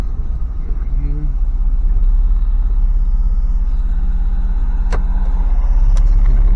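Engine of a Toyota 4Runner truck driving on grid streets, a steady low rumble throughout with the hum rising slightly toward the end, close and continuous.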